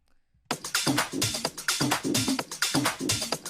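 After a brief silence, a busy tech house percussion top loop kicks in, with bright shakers and hats over punchy mid-range hits in a driving, repeating groove.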